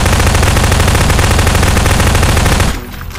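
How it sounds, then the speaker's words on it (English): Sustained automatic gunfire from a drive-by shooting in Garry's Mod, a loud, rapid, continuous burst that cuts off abruptly near the end, leaving a quieter tail. "Drive by shooting."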